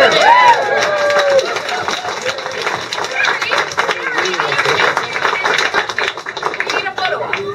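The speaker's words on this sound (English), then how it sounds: "I want to just give one more big round of applause for all of the candidates here" Audience applause and cheering at a Green Party of British Columbia campaign rally in Vancouver, a steady crowd roar of clapping and chatter lasting throughout, with a few whistles near the start.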